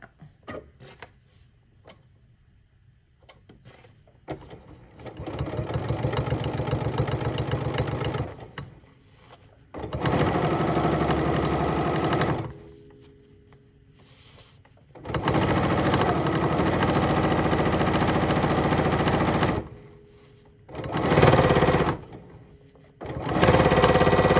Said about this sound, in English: This is going to make it so easy to do a perfect top stitch.